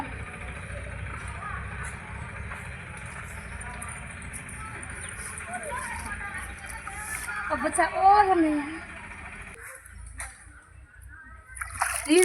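Cold spring water flowing and splashing at a forest temple, a steady close rush under people talking excitedly, dropping out briefly near the end before resuming.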